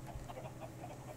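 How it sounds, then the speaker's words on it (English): Many chickens in a crowded Minecraft FTB modpack farm cluck in a steady overlapping chatter, quiet and continuous, with a low hum underneath. "We've got so many chickens here that the thing has overflowed again"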